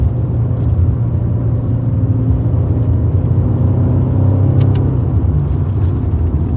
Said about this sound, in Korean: 와 진짜 배기음은 기가 막혀